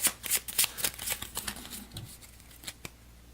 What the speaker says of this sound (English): These are all the starting country cards. Give these a quick shuffle.